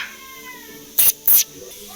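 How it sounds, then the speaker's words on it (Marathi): Two short, sharp cat sounds come in quick succession, close and fairly loud, with faint background tones before them. "हे आमचा मांजर बघा"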